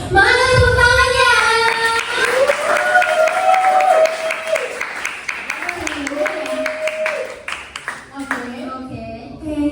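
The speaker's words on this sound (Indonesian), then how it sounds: "Mana tepuk tangannya?" A class audience at a public speaking and presentation session claps together in a steady burst of applause, mixed with voices and loud speech over the top.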